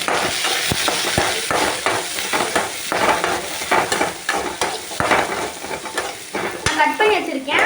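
Chopped small shallots sautéing in hot oil in a pan for Chettinad chicken gravy, with a steady sizzle and frequent scraping stirs of a spatula against the pan.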